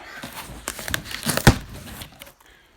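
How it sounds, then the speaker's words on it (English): A new seat cover for a 1985 Honda ATC 250R is unwrapped from its plastic packaging, giving close crinkling and rustling with a sharp louder crackle midway, then quieting. "my initial opening of my new seat cover for this 85 ATC 250R"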